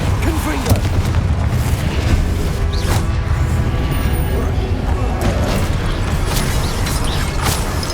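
Explosive booms from the Confringo spell in Hogwarts Legacy, deep rumbling blasts rolling continuously over loud in-game action with a voice speaking spell names over it.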